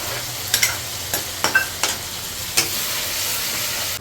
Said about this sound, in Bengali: সব মশলা দিয়ে দিচ্ছি, আদা রসুন বাটা সব দিয়ে দিচ্ছি। পেঁয়াজটা ভাজা করার পরে এখন এগুলো ভালো করে ভাজবো।